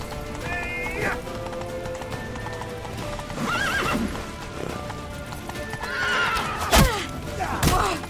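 Horse hooves clip-clop steadily while a horse neighs and whinnies a couple of times in The Witcher 3: Wild Hunt, set against a busy game soundscape with faint voices.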